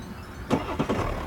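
2017 BMW 530d xDrive G30 diesel engine starting, a brief starter whir followed by a few quick firing pulses as the engine catches, heard close inside the car.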